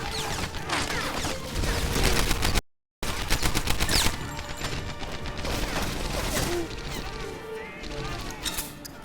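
Dense, loud gunfire and blasts from the World War II shooter Medal of Honor: Airborne, with rapid machine-gun bursts and booming grenade explosions filling the whole stretch, broken by one brief dropout.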